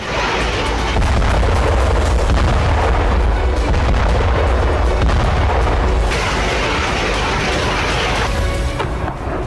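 Ukrainian forces' artillery shelling and bombardment of Russian targets rumbles loud and nearly continuous, dense overlapping booms and blasts filling the whole stretch with no pause.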